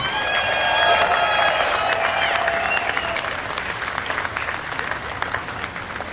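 A crowd at the Rock and Roll Hall of Fame expansion groundbreaking ceremony applauds its inductees with dense, loud clapping and a few cheers that slowly ease off, while a voice briefly carries over it at the start.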